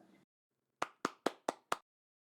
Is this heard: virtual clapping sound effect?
yes